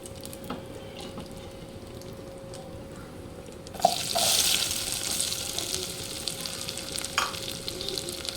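Onions and chilli pieces drop into hot oil in a pan where eggs were just fried, a sudden loud sizzle bursting in partway through after a quieter stretch, then steady frying with occasional stirring, close and with no voices.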